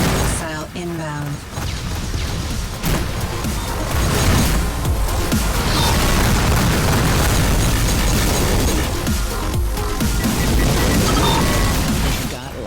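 Missile blasts in the space-combat game Rebel Galaxy Outlaw erupt as a dense, continuous barrage of loud booming detonations. They stay heavy and sustained throughout, layered over constant battle noise.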